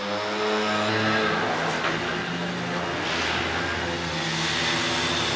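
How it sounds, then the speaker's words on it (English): A steady, droning motor roar from a grass-cutting machine running nearby in Ponta Delgada, loud and unbroken throughout with no talk. "Sorry about the noise, by the way, it's grass cutting day."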